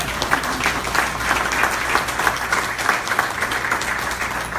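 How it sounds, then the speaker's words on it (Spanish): A church congregation claps loudly and steadily for the Lord, a thick, even wash of hands that runs the whole stretch without letup. "Denle un aplauso al Señor"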